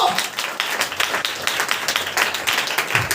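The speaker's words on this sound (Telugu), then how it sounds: "గట్టిగా చప్పట్లు కొట్టాలా?" A church congregation claps loudly and rapidly together, a dense close burst of overlapping hand claps that keeps a steady intensity for the whole stretch.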